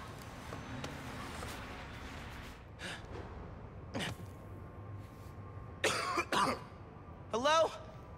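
Someone coughing in a dusty, long-abandoned room in the game Marvel's Spider-Man: Miles Morales, several separate coughs and throat-clearing bursts spread out over quiet ambience, growing louder toward the end.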